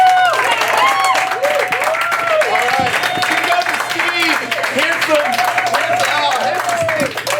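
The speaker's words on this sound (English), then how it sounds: "Give him applause immediately" Applause and cheering from a comedy show audience greet the host, a dense and loud crowd roar with whooping voices lasting several seconds.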